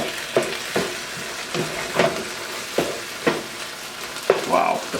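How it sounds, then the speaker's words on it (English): Thai basil beef with vegetables sizzles in a pan as the sauce cooks down, with a dense crackling sizzle broken by regular stirring scrapes roughly every half second, up close and with no talk. "We're going to let this cook down just a little bit and incorporate into the meat and the vegetables."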